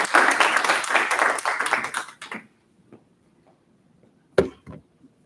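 An audience at an intern symposium bursts into brisk, close applause that fades out after a couple of seconds, followed by quiet and a few stray taps.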